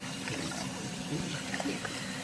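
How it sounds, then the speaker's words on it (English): Glutinous and jasmine rice being washed with water in a pot, a steady close sloshing and swirling of water and grains running throughout with small splashes. "I put the glutinous rice and the jasmine rice together in 1 pot. So now I'm gonna wash it."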